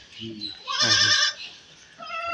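A ten-day-old Barbari goat kid gives one loud, quavering bleat lasting about half a second, close by, with people talking briefly just before and after it.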